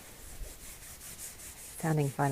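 Stiff fabric rubs and scrapes in a soft, steady rustle, then a short burst of voice breaks in near the end.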